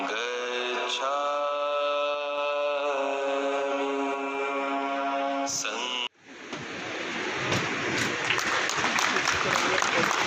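An audience at an Ambedkar Jayanti gathering of government employees breaks into loud applause, which swells after a sustained tonal musical passage and a sudden cutoff, building into dense clapping to the end.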